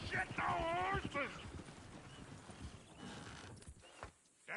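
Horses clip-clopping in the Red Dead Redemption II video game, a steady run of hoof beats with a whinny near the start, heard under game music and talk.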